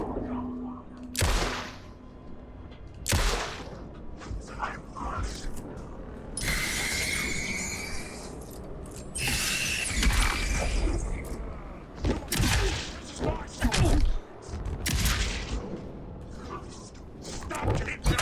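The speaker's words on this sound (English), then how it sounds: "shotgun shots" Shotgun blasts in the video game Alan Wake 2, several loud booming shots spaced irregularly amid crashing, thudding game effects, with a voice talking over parts of the action.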